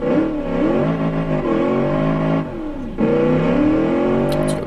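A car engine in the racing game Automation, a modern Holden Commodore build, revving hard through rising gears, with two shift dips where pitch drops before climbing again, loud and close.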